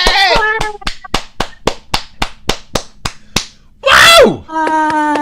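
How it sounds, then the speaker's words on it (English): Hands clap in a quick, close, loud series of about a dozen sharp claps, with excited voices shouting and cheering before and after the clapping. "Hey, let's clap it in!"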